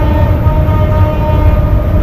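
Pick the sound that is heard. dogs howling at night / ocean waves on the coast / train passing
train passing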